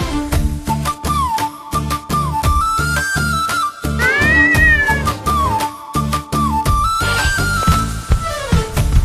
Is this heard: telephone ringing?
no